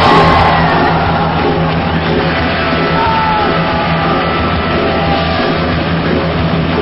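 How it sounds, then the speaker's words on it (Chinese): A crowd cheers and yells continuously for the red-corner winner of an 80 kg bout in a CKA league combat match, a loud, dense roar of voices that holds steady throughout. "掌声欢呼声一起给"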